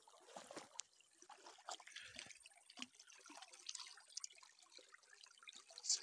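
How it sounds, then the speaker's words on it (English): Natural spring water trickles straight from the rock at a village site, a faint, continuous trickle broken by small scattered drips and splashes, heard alone with no talking. "So this is the spring, this is the water."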